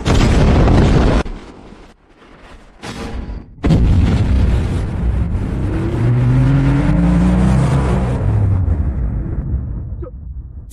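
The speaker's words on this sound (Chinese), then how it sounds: "开火，把那辆破车轰成铁渣！" Heavy gunfire and explosions from mining-site defences pound a pink RV war vehicle, loud booming blasts and rumbling bursts with brief gaps, followed by a sustained roaring engine-like rumble.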